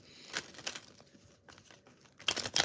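Tarot cards being shuffled by hand, giving quiet, close papery riffles and crinkly bursts in irregular clusters, briefer and sparser midway and louder again near the end, with no talking.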